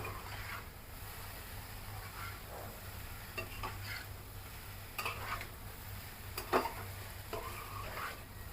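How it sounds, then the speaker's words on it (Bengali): Continuous soft sizzling of a hotel-style mixed vegetable bhaji frying with spices, with occasional spatula scrapes and light clinks against the pan, steady and unaccompanied by talk. "মশলা দেওয়ার পরে অন্তত দুই থেকে তিন মিনিটের জন্য ভালো করে ভাজতে হবে"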